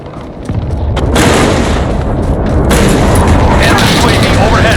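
Loud, dense barrage of airstrike explosions in a Call of Duty: Modern Warfare ground war match, heavy rumbling booms and cracks blending into a continuous roar that swells after the first second and stays intense throughout.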